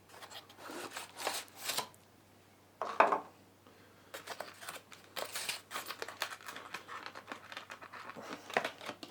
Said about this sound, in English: Go ahead and pull it out here of the foam and hard plastic.